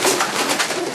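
A pigeon at a pigeon-racing club coos in a low, continuous throaty murmur, close and fairly loud, with no voices over it.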